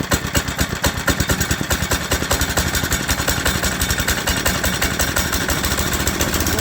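A 1960 Tote Gote trail bike engine with a freshly rebuilt carburetor runs steadily up close, a loud, fast, rough small-engine chug with rhythmic clattering pulses and a slight loading-up stumble, no talking.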